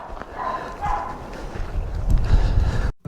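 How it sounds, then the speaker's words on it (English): Dogs barking inside a cabin in Death Valley, muffled yips and barks heard from outside amid wind and rustling, moderately loud, with a brief cutout near the end. "And you hear the doggos out there having fun inside the cabin. Hear the barking."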